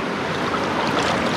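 A strong river current rushes steadily at a campsite in Mayantoc, Tarlac, its dense broadband wash of flowing water filling the space close by, continuous and unbroken with no voices.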